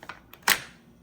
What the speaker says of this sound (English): See how smooth the bolt is.